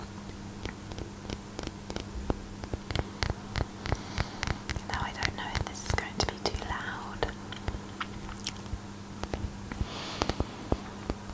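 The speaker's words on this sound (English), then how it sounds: "I'm just going to do a little bit of tapping near my mic on this bottle" Light, rapid fingernail taps click on a glass bottle close to the microphone, irregular and continuous beneath soft whispered speech.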